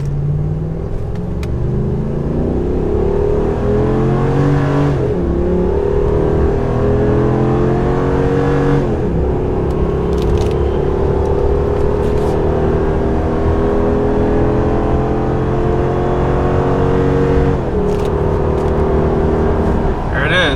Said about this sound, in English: this truck definitely gets up to speed pretty quickly